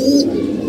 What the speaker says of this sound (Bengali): খুব সুন্দর একটা কবুতর এসেছে